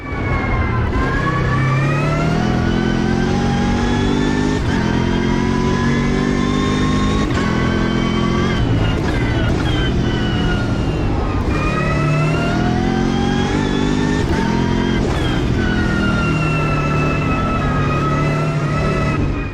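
A loud, steady racing car engine in the video game Automobilista 2 drones throughout, its pitch rising and dipping with gear changes and bursts of acceleration.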